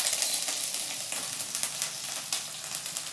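Garlic ginger paste sizzling hard in hot oil in a kadhai, a steady bright crackling hiss with small pops, close and alone.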